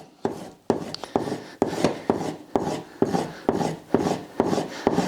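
A sharpening tool is drawn repeatedly across a leather strop loaded with honing compound, making about ten regular rasping back strokes in a steady rhythm, close and clear with no talking.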